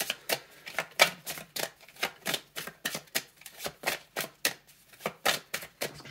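Tarot cards are shuffled in a quick, even run of crisp riffles and snaps, about three per second. The cards are close and clear, with no voice over them.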